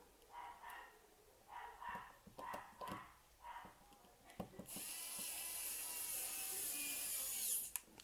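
Small screwdriver turning the last tiny screw on the case back of an XGAMES XMPPD566 wristwatch: several short clicking ratchet-like bursts close up, followed by a steady hiss.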